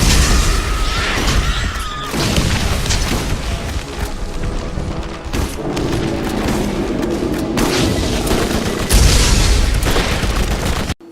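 Gunfire and explosive booms from the video game Borderlands, dense and loud throughout, with heavy blasts and rapid shots layered over game noise.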